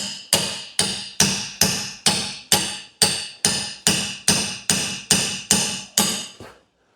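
A hammer strikes a chisel being driven through a rubber rear axle bush on an MK7 Ford Fiesta, about fourteen loud, sharp metallic blows in a steady, even rhythm before stopping.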